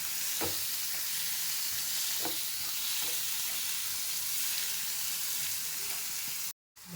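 Chopped squid with its head and fins sizzles in a hot pan while being mixed, a steady loud frying hiss punctuated by occasional scraping strokes, ending in a brief cut to silence.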